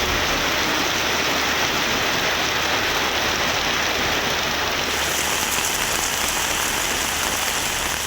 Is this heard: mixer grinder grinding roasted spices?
no